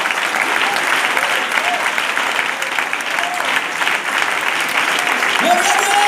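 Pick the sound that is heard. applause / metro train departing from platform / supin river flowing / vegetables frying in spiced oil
applause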